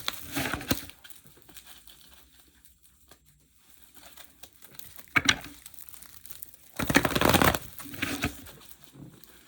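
Tarot cards are shuffled and drawn from a deck: soft papery rustles and a couple of louder riffling bursts close by, with quiet gaps between and no speech.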